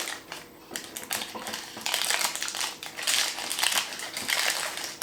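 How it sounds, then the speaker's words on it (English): Baking paper is peeled and crumpled off a freshly baked fruity maltloaf, a close, continuous crinkling and crackling that grows louder in bursts, with no talking. "now we can turn it over, remove the paper"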